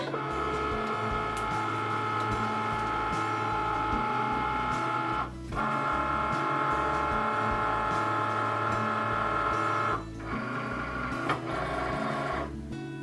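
A Cricut cutting machine loading material, a steady mechanical whirring hum with a couple of brief pauses where the motor stops and restarts, close and moderately loud.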